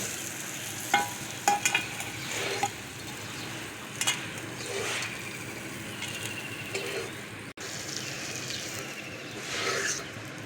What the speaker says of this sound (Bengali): একটু লাল লাল করে ভাজতে হবে, আর একটু সময় নিয়ে ভাজতে হবে